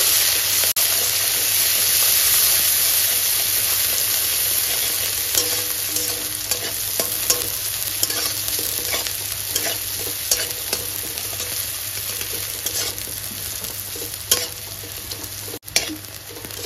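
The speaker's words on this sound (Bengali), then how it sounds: "পেঁয়াজটাকে হালকা করে ভেজে নেব।" Chopped onion, a medium one, frying in oil for a fish curry, with a steady loud sizzle throughout and frequent scraping stirs of a spatula against the pan. No one speaks.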